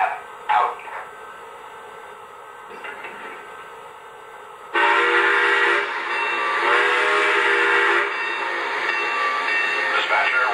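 A Lionel Legacy Milwaukee Road S3 Northern model steam locomotive runs with a continuous mechanical hum, then loud steam chuffing and whistle-like sound effects swell in abruptly partway through and carry on steadily.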